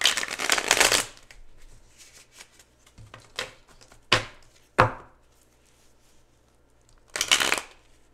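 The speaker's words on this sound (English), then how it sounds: "I suck at shuffling." A deck of tarot cards is shuffled in a loud riffle burst, followed by several soft taps and slaps of cards, then another riffle near the end.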